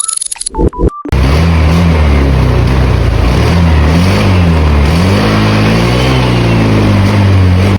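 After a few short electronic beeps, a Honda Click 125 scooter engine starts and revs repeatedly, its pitch rising and falling with the throttle, loud and close, losing power when the throttle is raised.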